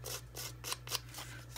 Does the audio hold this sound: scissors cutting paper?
yes